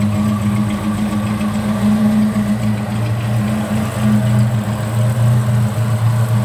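A 1966 Vauxhall Victor 101 ticks over at a steady, even idle, its engine hum loud and close and holding constant throughout with no talking.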